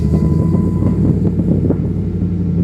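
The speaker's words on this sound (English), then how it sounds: "Why is that fan going so fast?" Loud, steady whooshing roar of a cooling fan spinning fast on a Ford Lightning truck with a coolant problem, a constant close drone with no speech.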